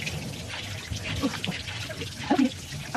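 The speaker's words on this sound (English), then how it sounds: "Cleaning my face with hot water." Water splashes and drips as hands scoop hot water to scrub a face clean during makeup removal, a soft wet patter with a few brief trickles close by.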